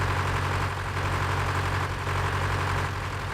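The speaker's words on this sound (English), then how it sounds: "It's a pretty powerful tractor for its time, I think. Got 55 horsepower on it." A 55-horsepower tractor idles in Farming Simulator 2013, a steady low engine drone with a constant hum and a faint mechanical rattle, heard alone without voices.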